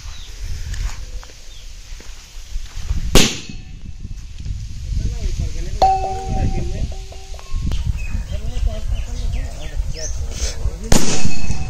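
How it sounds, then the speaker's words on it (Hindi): A bullet bomb firecracker goes off with a sharp loud crack that launches a glass upward, followed by another blast later, amid people talking and outdoor background noise. "बुलेट बम फट जाएगा और गिलास ऊंचाई तक चला जाएगा"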